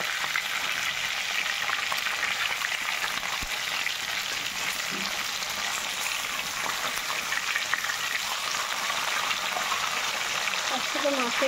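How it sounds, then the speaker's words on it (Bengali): Catla fish pieces frying in oil in a pan, a dense steady hiss and spatter that runs continuously and fairly loud, with a little faint background noise and no clear speech. "এই যে মাছটা উল্টে নিচ্ছি, দেখতে পাচ্ছি বন্ধুরা। একটু ভাজা হয়ে গেছে।"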